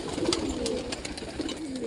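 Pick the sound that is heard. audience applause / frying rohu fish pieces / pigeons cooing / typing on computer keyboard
pigeons cooing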